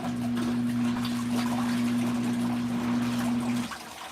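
Water splashes steadily inside an LG ThinQ MEGA Ultimate washer during the cool-down fill of a light wash cycle, a constant rushing wash with a low hum that cuts off near the end.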